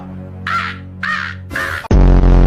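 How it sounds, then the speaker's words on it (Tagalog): Three harsh crow caws ring out in a row, loud and close, followed by a sudden burst of louder, rougher noise. "Uwak yan eh."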